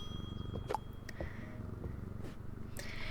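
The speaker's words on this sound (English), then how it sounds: "Pet the cat." A cat in the game Strange Antiquities purrs steadily as it is petted, a soft low rumbling murmur with a few faint clicks and thumps from the game over it.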